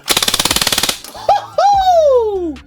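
An HFC MAC 11 gas blowback airsoft SMG fires a rapid full-auto burst of about a dozen sharp, evenly spaced cracks, close and loud, followed by other handling noises.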